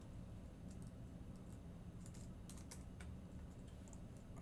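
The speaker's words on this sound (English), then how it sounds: "I'm typing in the chat." Fingers typing on a computer keyboard, a quiet run of clicky keystrokes in uneven bursts over a steady background hiss, with no voices.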